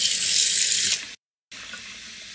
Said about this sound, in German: Hälfte Wasser rein.